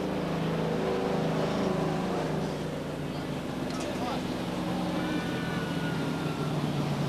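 Late model race cars with limited engines at Beech Ridge Motor Speedway in Scarborough, Maine, in 1992, a steady droning engine roar at a distance, continuous and even, with an announcer talking over it.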